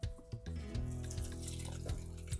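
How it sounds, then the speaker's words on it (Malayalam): Lukewarm water pours in a steady stream into naan dough, a close, continuous splashing and gurgling with small bursts as the flow shifts. "കുറേശ്ശെ വെള്ളം എടുത്ത് വെച്ച് ഒഴിച്ചു കൊടുക്കാം."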